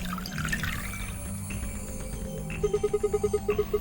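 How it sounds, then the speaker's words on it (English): Ethanol poured down a drain in the video game Zero Escape: Virtue's Last Reward, a steady watery gush that ends in a quick run of evenly spaced, pulsing tones. "I'll just pour the froggy ethanol into the drain."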